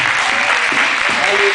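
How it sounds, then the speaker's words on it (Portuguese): Church congregation applauding during a Brazilian evangelical service, a dense burst of clapping from a large crowd that fills the short moment. "Vamos aplaudir o Senhor?"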